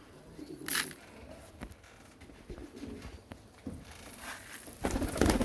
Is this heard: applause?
no